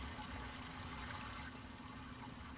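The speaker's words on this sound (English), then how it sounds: "the water sounds are louder this way" Steady, rushing water flows continuously in the video game Myst, a broad even wash of sound with a faint low hum beneath, holding level from start to finish with no voices.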